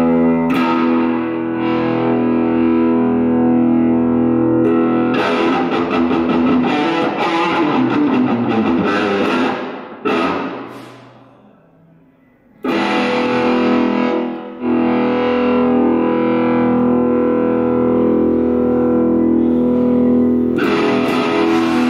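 Electric guitar played through a small tube amplifier set to a dirty distortion, loud chords and riffs ringing with thick sustain, a brief quiet gap midway before the crunch returns, no talking.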